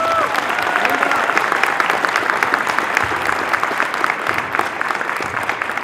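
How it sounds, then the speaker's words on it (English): Sustained round of applause from an audience at a gymnastics gym dedication ceremony, steady dense clapping from many hands that carries on for several seconds at an even level, with faint crowd murmur underneath. "So I'd like to give her a round of applause."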